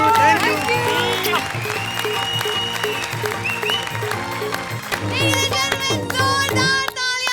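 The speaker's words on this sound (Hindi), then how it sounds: "जोरदार तालियां कपिल और मुक्ति के लिए।" Applause for Kapil and Mukti on a comedy circus stage show, clapping mixed with loud music and a voice over it.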